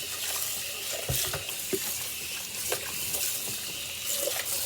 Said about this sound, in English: Clean with this hot water